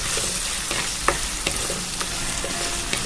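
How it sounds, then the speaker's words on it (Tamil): Crushed garlic and onion sauté in oil in a pan for a fish curry, with a steady close sizzle throughout and several sharp spoon scrapes and taps against the pan as it is stirred. "பச்சை வாசனை போகிற வரைக்கும் நல்லா வதக்கிடுங்க."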